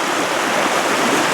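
A river runs at low water, giving a steady broadband rush of flowing water on a night hike, continuous and fairly loud with no voices.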